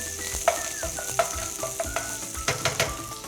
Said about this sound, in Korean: 이렇게 달궈진 팬에 파랑 마늘을 넣고 파랑 마늘 향이 날 때까지 천천히 볶아주시면 돼요.